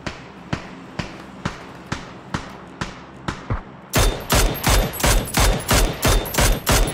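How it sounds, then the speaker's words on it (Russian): Rapid bursts of automatic gunfire in PUBG, a ranked squads match on the Taego map, crack out as a steady series of sharp shots, quieter and spaced at first, then louder, denser and closer in the second half. "Кто по мне стреляет?"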